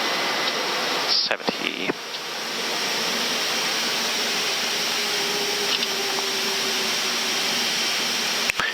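Airbus jet engines at reverse thrust during a snowy landing rollout, a loud continuous roar heard from inside the cockpit with brief clicks near the start, and a voice speaks briefly.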